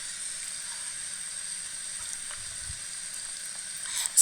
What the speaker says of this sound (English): So let it settle and fry for about a minute